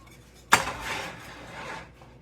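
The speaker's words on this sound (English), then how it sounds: "Let me pull this skillet right over there to you where you can see." A cast-iron skillet of sawmill gravy pulled across a stovetop: one sharp metallic clank, then a softer scraping slide that fades out, close and moderately loud.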